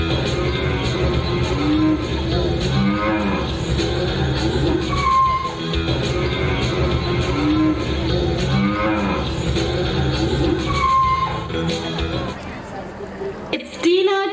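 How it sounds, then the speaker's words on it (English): Cattle moo repeatedly in long, drawn-out lows across a rural farmyard scene, loud and close, layered under ongoing talk and background voices. "The cattle started to cry"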